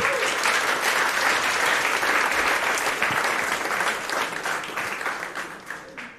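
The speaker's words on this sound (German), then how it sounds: "Deswegen Applaus für Benny und Nele." An audience at a youth hackathon's final presentation breaks into sustained applause for a presenting team, dense clapping from many hands that holds steady for several seconds before thinning out toward the end.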